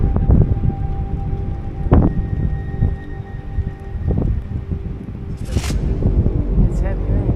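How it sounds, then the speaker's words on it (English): A squall blowing over a boat at anchor brings heavy rain and gusting wind, a loud, steady wash of noise with thumps and creaks and people talking over it. "I could hear the rain coming."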